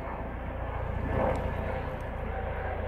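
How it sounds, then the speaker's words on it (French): A helicopter flying overhead, a steady loud engine and rotor roar that swells slightly at its nearest point, with no talk. "il y a un hélicoptère au-dessus, là."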